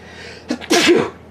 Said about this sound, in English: Here comes that sneeze.